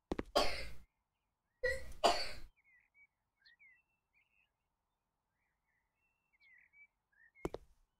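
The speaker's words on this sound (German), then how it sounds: "Falls ihr Husten in meinem im Hintergrund hört, mein Bruder ist schon wieder mal hier." A brother coughs in the background of a home room: two clusters of harsh, close coughs early on, a long quiet stretch with faint chirpy game sounds, then one more short cough at the end.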